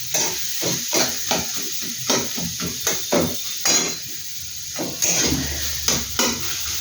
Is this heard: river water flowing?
no